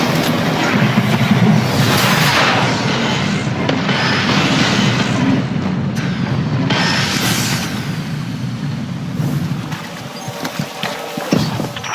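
Warsat orbital strike in Destiny 2, a loud sustained barrage of booming explosions and crackling blasts rolling on for several seconds before easing into scattered sharp impacts.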